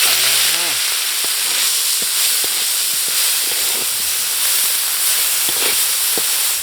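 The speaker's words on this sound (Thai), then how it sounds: "จะไปคั่วเนาะคั่วกรอบ คั่วก็จะใช้น้ำมัน นิดหน่อยนะครับนิดหน่อย" Loud, steady sizzling of insects frying in a little hot oil in a pan, a constant hiss with scattered pops and crackles, close up.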